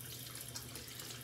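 Hot water running from a bathroom tap during a nighttime skincare routine, a steady, soft hiss of flowing water with no voices.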